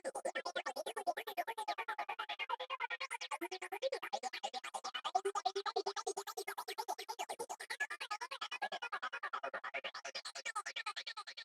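A synth sequence built from single-cycle waveforms with random modulation, chopped by a transgate and repeated through delay, giving a steady fast pulsing pattern of shifting tones, moderately quiet and alone.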